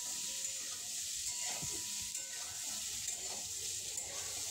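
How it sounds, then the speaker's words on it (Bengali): Pointed gourd pieces fry in a pan over medium-low heat, giving a soft, steady sizzle with faint stirring scrapes. "ভালোভাবে নেড়ে চেড়ে পটলগুলো লাল লাল করে ভেজে নেব।"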